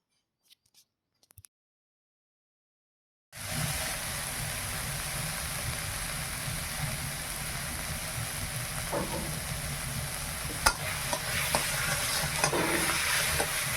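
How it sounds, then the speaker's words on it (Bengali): Leafy greens seasoned with turmeric stir-frying in a pan, a continuous hiss of sizzling with occasional scraping clicks, starting abruptly after a brief silence. "শাকটা ভাজা হয়ে গেছে এবার নামিয়ে নেই"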